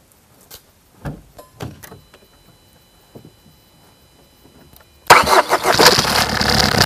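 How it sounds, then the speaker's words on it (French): A Peugeot 207 1.6 HDI diesel with a faulty engine control unit: after several faint clicks and knocks, the engine cranks and catches at about five seconds, settling into a loud steady idle. "le moteur démarre"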